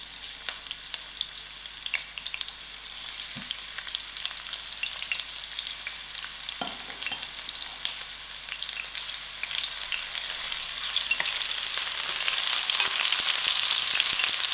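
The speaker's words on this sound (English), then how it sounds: "I'll allow to fry these onions till it's soft." Onions frying in half a cup of hot oil on a stove at moderate heat, a steady broadband sizzle with occasional utensil clicks, growing slightly louder toward the end, with no talking.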